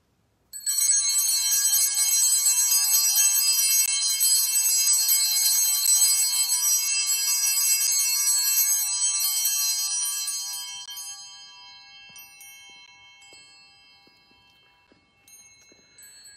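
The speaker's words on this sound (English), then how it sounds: "Let me go ring the bells, and we'll begin honoring the Blessed Mother." Church bells rung for the Angelus at noon peal loudly and continuously for about ten seconds, then fade into a lingering, decaying ring with no voices.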